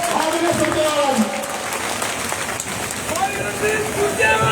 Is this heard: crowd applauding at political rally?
yes